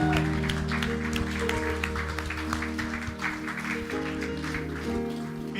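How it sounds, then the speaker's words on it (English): Church congregation clapping together at a Resurrection Sunday service, steady sustained applause filling the room over organ or keyboard tones and a few voices. "Let's give a clap offering to Jesus this morning."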